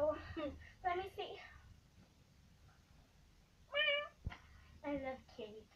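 Two bursts of a kitty cat meowing, a short pair near the start and a longer sequence later, fairly close and clear over a low background hum, with a quiet gap between them.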